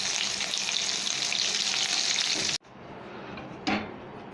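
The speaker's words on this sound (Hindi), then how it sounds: "सिजलिंग पैन बहुत अच्छी तरह गर्म हो रहा है।" Seekh kebabs sizzle loudly on a very hot sizzling pan, a steady close hiss that cuts off abruptly, then a quieter sizzle returns with a brief fresh burst of spitting.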